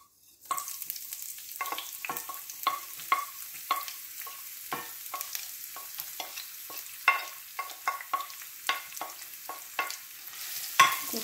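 Ginger, garlic and cumin fry in about three tablespoons of hot oil in a pan, giving a soft, steady sizzle broken by repeated crackles and pops as the spices are stirred, with no talking.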